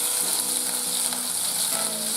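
Green chillies crackle and sizzle steadily in hot oil with cumin seeds and asafoetida, a dense continuous frying hiss close up, with faint stirring and no talk.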